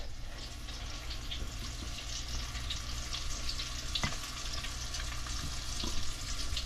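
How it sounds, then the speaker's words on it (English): Steady crackling sizzle of mullet fish frying in hot oil, moderately close, with a few small pops and no talking. "See, it should be sizzling just like that."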